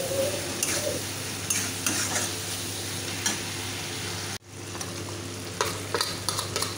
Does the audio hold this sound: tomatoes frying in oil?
yes